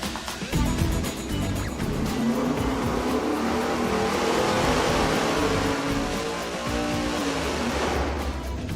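A dyno-mounted engine breathing through Hooker maximum flow mufflers roars steadily under load, its loud, rumbling exhaust note swelling and easing slightly across the stretch without speech.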